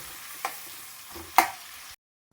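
Onions fry in a pan for chicken fry under a low, steady sizzle, broken by two sharp scraping stirs before the sound stops abruptly.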